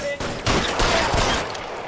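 A loud, close exchange of gunfire during a shootout in L.A. Noire, with dense overlapping shots and impacts running throughout.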